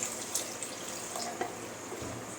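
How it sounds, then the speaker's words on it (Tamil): Faint pouring and splashing of water into a hot pan of green peas masala kurma, with soft sizzling and bubbling underneath and occasional light clinks. "இப்போ நம்ம தேவையான தண்ணி ஊற்றிக்கலாம்"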